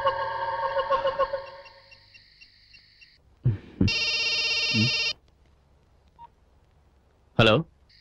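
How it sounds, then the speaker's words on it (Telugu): A telephone goes off in short tonal bursts, with the first ring loud and layered, then a couple of briefer chirps after a pause. Talk sounds faintly around it. "ఏంటి ఈ టైంలో ఫోన్ చేసావు?"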